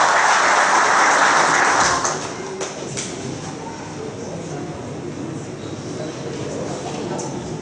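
Applause rises as a military police officer is honoured at a city council ceremony. Loud clapping fills the first two seconds, then fades to scattered claps and room murmur.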